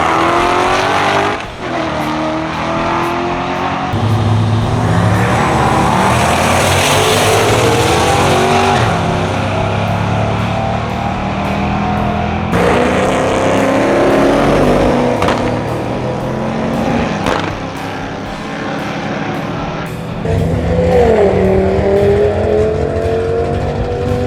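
A Jeep makes a 1/8 mile drag racing pass, its engine roaring loud and steady throughout with rising revs, tire noise and shifts, close and continuous with no talk.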